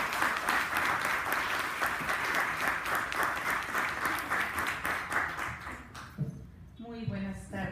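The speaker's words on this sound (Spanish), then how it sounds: "un aplauso por favor" Applause from an audience at a cultural promotion lecture in Xalapa, loud and steady for about six seconds, then breaking off as a voice begins speaking over the fading claps.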